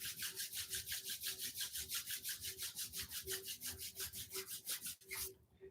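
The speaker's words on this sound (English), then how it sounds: "Rub the palms together at the heart center." Palms rubbed briskly together at chest level during a yoga session, a fast, even run of close, soft swishing strokes that stops abruptly near the end.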